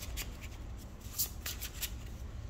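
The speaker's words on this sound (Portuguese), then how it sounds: "E vou embaralhar um cadinho." A deck of playing cards is shuffled in several quick riffling bursts, soft and close, with light handling noise between them and no voices.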